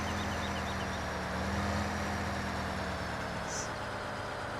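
A farm tractor in Farming Simulator 15 idles with a steady low engine drone, even and unbroken throughout, fairly faint and without voices.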